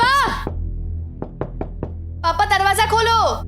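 Several sharp raps on a wooden door in a family home, a quick run of three or four knocks, with people talking loudly before and after.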